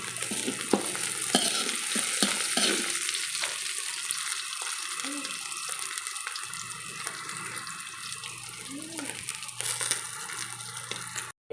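Dried shrimp stir-fried with garlic and onion in a pan as filling for vegetable lumpia, a steady close sizzle broken by scraping stirs, with running tap water mixed in.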